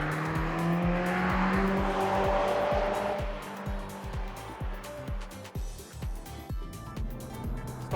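Subaru BRZ tS race car at speed on the Laguna Seca circuit in Monterey, a loud close in-car engine drone with rising and falling revs, rapid upshifts and brief tire squeal throughout.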